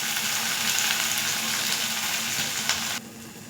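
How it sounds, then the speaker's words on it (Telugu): Gongura leaves frying with mutton in a pan give a loud, continuous sizzle with crackling bursts, which drops abruptly to a quieter simmer near the end. "ఇప్పుడు గోంగూర వేసుకుంటుంది మగ్గనిచ్చేయాలి బాగా"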